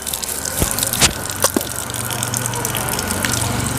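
Close water gushing and splashing during wudu ablution, with a few sharp splashes early on, then a steady flow to the end, no voices.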